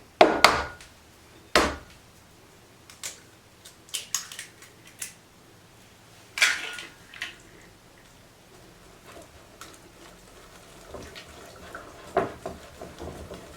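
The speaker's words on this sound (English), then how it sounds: "So just stirring in that first egg until it's completely combined." An egg is stirred into brownie batter in a mixing bowl by hand, giving scattered sharp clinks and scrapes of the utensil against the bowl, close and irregular, with quiet gaps between strokes.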